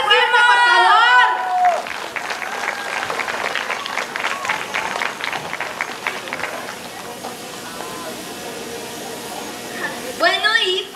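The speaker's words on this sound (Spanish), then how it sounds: "Así que un aplauso, fuertísimo, por favor" An audience claps and cheers at a musical concert, a dense wash of applause following a brief vocal flourish, gradually thinning, with music returning at the very end.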